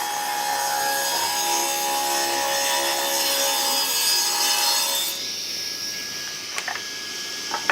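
A handsaw rasps through wood for a pin-striped chopping board in steady back-and-forth strokes for about five seconds, then stops, leaving a few faint knocks and scrapes.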